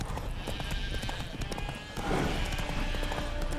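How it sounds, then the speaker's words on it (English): Hooves of Roach, a spooked horse in The Witcher 3, clip-clop in a quick steady rhythm, joined midway by a brief whinny against a background of game ambience. "Spooking my horse."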